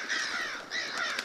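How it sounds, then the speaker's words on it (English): Two harsh caws from crows in the survival horror game Darkwood, close and fairly loud, one right after the other with no talking. "What are you doing, crows?"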